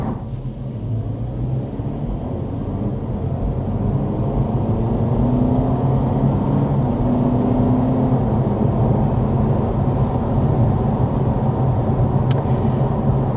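A 2025 Honda Civic Hatchback with its two-motor hybrid powertrain accelerates, giving a steady low engine drone heard from inside the cabin, with the hum building slightly and then holding level.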